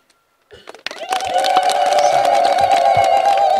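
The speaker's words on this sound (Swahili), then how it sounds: "Tendo la kushangilia kwa makofi na vigelegele." Crowd at a Catholic parish water project inauguration in Mwangika bursts into sustained clapping and cheering with high trilling ululation, rising quickly after a brief quiet and staying loud and dense throughout.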